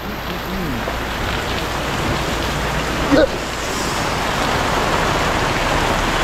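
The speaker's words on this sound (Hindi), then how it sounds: "ये देखो रास्ते में तो फुल बारिश" Heavy rain pours onto a flooded road in a steady, loud hiss, broken by one brief splash or knock midway.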